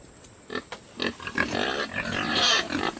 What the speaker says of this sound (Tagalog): So ito guys yung mga alaga nating baboy.